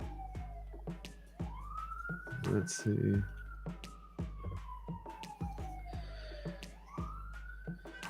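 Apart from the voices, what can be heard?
emergency vehicle siren, ambulance or fire truck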